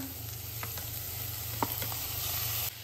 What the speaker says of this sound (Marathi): दोडका घालूया।